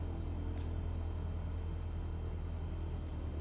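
Cessna 172 piston engine in a flight simulator, throttled back to about 1000 RPM, giving a steady low droning rumble that holds evenly at moderate level with no talk.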